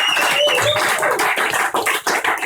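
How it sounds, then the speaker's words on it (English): A comedy club crowd at an Edinburgh show claps for newlyweds in the audience, loud and close, with whoops and whistles cutting through briefly. "can I have a massive round of applause for the newlyweds here?"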